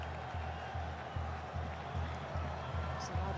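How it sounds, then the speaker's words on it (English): Stadium crowd at a World Cup football match between Saudi Arabia and Uruguay, a broad, distant roar of cheering and noise with a steady rhythmic thumping of drums beneath it and faint commentary over the top. "So loud as the crowd have cheered"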